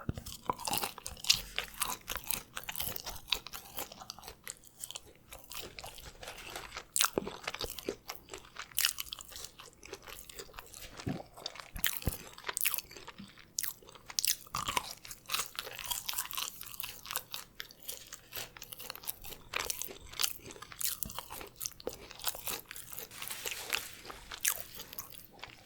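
Crinkle-cut fries crunched and chewed up close in a quiet ASMR setting, with dense, irregular crisp bites and wet chewing that continue steadily without any talk.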